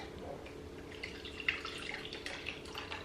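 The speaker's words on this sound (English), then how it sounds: "I'm gonna pour some milk in here." Milk poured into a cooking pot while making mac and cheese in a home kitchen, a soft, continuous liquid trickle with faint splashes, alone and moderately close.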